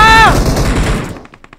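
Gunfire in the mobile battle royale game PUBG Mobile: a loud burst of rapid shots at the start, fading into scattered fainter pops, with a brief tonal game sound at the opening.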